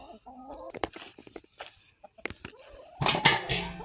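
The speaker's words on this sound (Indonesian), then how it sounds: "aku sayang banget ini ayam-ayamnya tuh jinak-jinak gitu" Tame backyard chickens cluck and squawk at feeding time, a string of short irregular calls close by, with a louder burst of clucking near the end; a voice is briefly audible among them.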